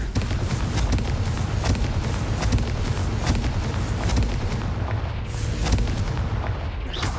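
Bombarda and Confringo spells blasting in Hogwarts Legacy, a dense run of booming explosions and crackling bursts that rolls on loudly without a break.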